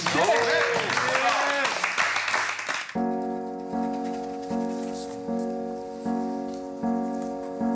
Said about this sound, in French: Et c'est ici qu'on applaudit.